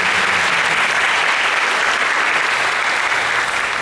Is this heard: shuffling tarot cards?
no